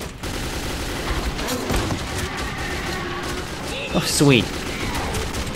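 Hip-fired bursts from a gun in Metro 2033 rattle steadily under game noise, while a player briefly speaks near the end.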